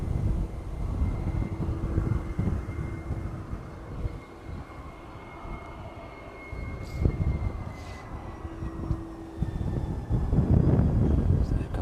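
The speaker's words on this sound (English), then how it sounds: "Ryanair just extending its approach a little further over Burton, but that one will be making that right hand turn towards us soon" Ryanair airliner on approach to East Midlands Airport, a steady low engine rumble heard from a distance outdoors, growing slightly louder near the end amid light wind noise.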